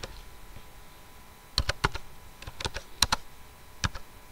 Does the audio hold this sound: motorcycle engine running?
no